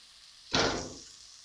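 Vegetables like peas, carrots and potatoes dropped into a hot pan for spicy vegetable seviyan, producing one sudden loud sizzle that fades over about half a second, with no talking.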